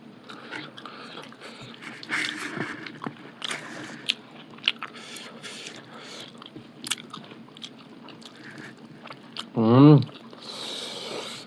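Someone chews spicy, oily chicken bones, with close crunching bites and gnawing scattered through, under ongoing talk, and one louder thud near the end.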